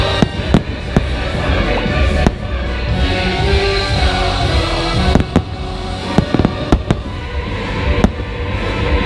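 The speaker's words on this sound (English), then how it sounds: "the fireworks are going to start really soon" Fireworks boom and crack in a steady barrage at Walt Disney World's Halloween party, sharp bangs scattered over a continuous rumble, with a crowd faintly audible beneath.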